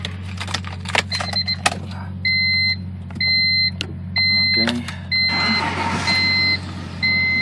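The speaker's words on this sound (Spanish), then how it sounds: "Vamos a echar a andar el vehículo." A car's engine starts for an air conditioner check, preceded by steady electronic warning chimes that repeat in even pulses; a broader rumble swells in near the end beneath the continuing beeps.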